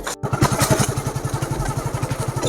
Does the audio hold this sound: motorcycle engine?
yes